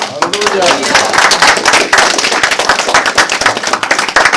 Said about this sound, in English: Give Almighty Yah his clap.